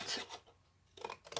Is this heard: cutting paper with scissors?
yes